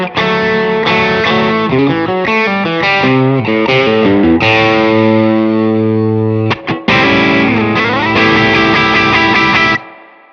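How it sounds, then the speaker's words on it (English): Electric guitar through a BBE screamer overdrive pedal at high gain on the bridge pickup with the tone rolled down, playing loud distorted riffs and sustained chords with a heavy low end, one brief break midway and a ringing final chord cut off. "On the bridge pickup, let's really gain it up and bring the tone down and see how that low end sounds."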